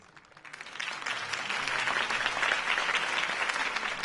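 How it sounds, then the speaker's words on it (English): Crowd applause from the Telltale Batman video game, swelling in after a quiet start and holding as steady, dense clapping and cheering for several seconds with no talk over it. "If only Mr. Wayne, my campaign's largest backer, could have heard that applause"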